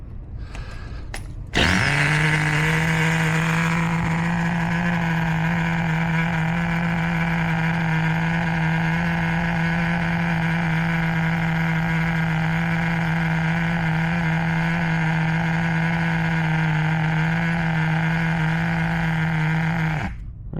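A 1990 Kyosho Madcrusher USA-1 RC truck's nitro engine fires up and holds a steady, loud, buzzing idle while warming up, droning evenly for most of the stretch before cutting off at the end.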